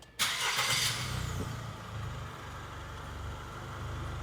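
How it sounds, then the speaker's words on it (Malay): Diesel engine of a Foton View CS2 van cranking and catching, then settling into a steady low idle, heard close and alone. "But this one, when I start the engine,"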